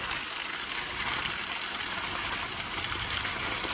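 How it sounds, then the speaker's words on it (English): Water gushes out of a roof tank after its cap is pulled, rushing fast down the roof and hitting a back wall as a steady, broad hiss with no letup. "the water's flowing all the way down really fast, hitting the back wall and jumping over"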